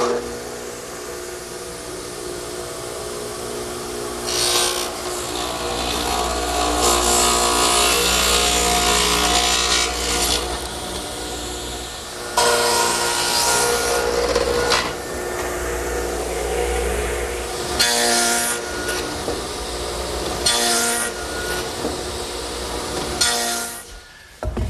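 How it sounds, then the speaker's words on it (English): A stacked dado head cutter set about 5/8 inch wide, mounted in a radial arm saw, rips through wood in several loud, rasping passes, with the motor's steady whine carrying on between the cuts. "I've set up a stacked dado head cutter in my radial arm at about 5/8 of an inch width, and I'll just take my time and make all the cuts."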